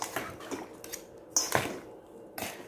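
Fish fillet is stirred and tossed in its flour coating in a bowl, giving soft scraping and squishing sounds with a few light clinks of utensil on dish, fairly close.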